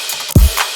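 A single short, deep 808 bass note in a trap beat made in Reaper thumps once and quickly dies away, with faint background hiss around it.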